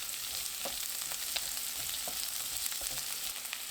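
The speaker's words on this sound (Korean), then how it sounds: "양파 넣고 센 불로 30초 볶습니다." Onion stir-fries in a hot pan over high heat alongside chopped chili peppers, producing a bright, constant sizzle with small crackling pops and occasional stirring clinks, close and alone without talk.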